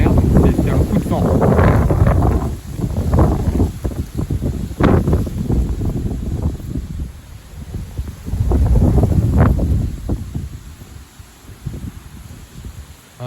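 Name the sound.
gale force wind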